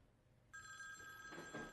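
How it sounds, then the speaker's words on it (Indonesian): A telephone rings in a Korean film drama set in Afghanistan, a single electronic ring tone that starts abruptly and holds steady for over a second, fairly faint against a quiet background. "tiba-tiba teleponnya berbunyi kembali"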